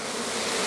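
Honey bees buzz steadily and fairly loudly from an opened hive during a beekeeping inspection in Cameroon, a dense continuous hum with no voices.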